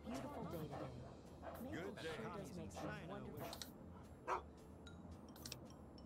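Dog in the Fallout 3 video game barking and yipping several times in quick succession, mixed under and between people talking.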